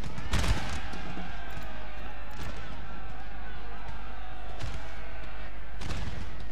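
Troops firing in battle in Napoleon: Total War, a few distinct musket volleys spaced a couple of seconds apart over a steady low battlefield rumble, with talk at times.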